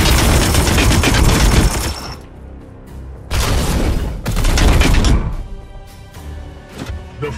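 Guns open up in Warhammer 40,000: Chaos Gate - Daemonhunters with loud, dense volleys of rapid automatic fire, three sustained bursts broken by short lulls filled with clanking mechanical sounds.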